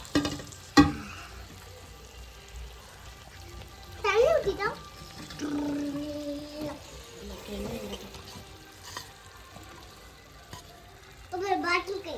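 Fried tuna pieces being stirred into a pickle masala in a pan, with soft sizzling and scraping of the spoon in irregular bursts, close and fairly quiet.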